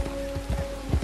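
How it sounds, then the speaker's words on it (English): Rain falls steadily in Red Dead Redemption 2 with scattered drops pattering on surfaces, a dense continuous hiss over a low tone. "And I'm getting rained on."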